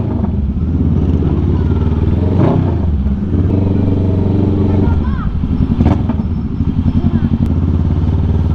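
A loud Kawasaki Ninja 650 engine rumbles close by, revving up and down in bursts with some clatter, over faint talking.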